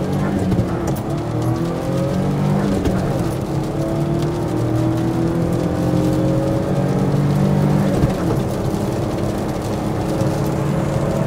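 A small car with upgraded 14-inch tires accelerating hard at full throttle, its engine note climbing steadily through the gears, loud and close throughout with no voices.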